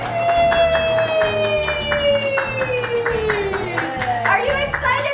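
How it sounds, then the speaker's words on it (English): Rhythmic clapping from a few people in a home, cheering a pet parrot, heard as steady close hand claps under a sustained tonal musical sound, with a voice joining in. "Now clap for her."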